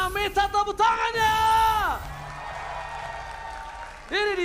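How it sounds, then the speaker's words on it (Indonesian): At an esports arena during a Mobile Legends pro league match, the crowd yells and cheers loudly in long whooping swells, with a few claps and an announcer's voice shouting over the noise. "Minta tepuk tangannya!"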